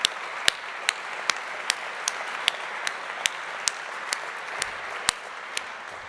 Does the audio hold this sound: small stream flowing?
no